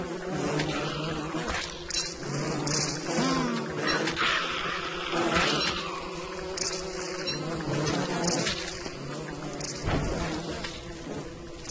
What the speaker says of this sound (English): That's an angry bee.